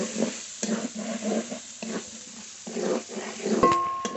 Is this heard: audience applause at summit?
no